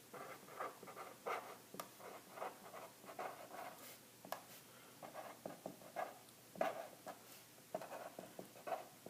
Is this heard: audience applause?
no